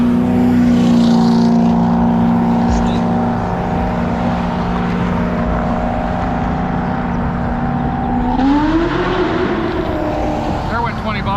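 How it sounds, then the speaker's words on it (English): A Chevrolet Corvette drives past on a roadside, its engine note loud and steady before the pitch bends upward as it goes by. Talk is heard under it. "nice Corvette"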